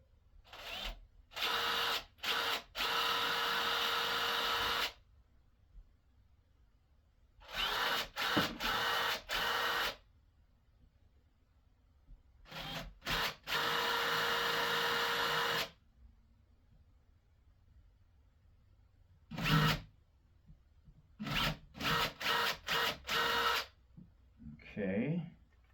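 A power drill bores into a wall while a plastic lock-and-key cover is mounted over a home thermostat, several loud whirring bursts of varying length separated by quiet pauses, some lasting a few seconds.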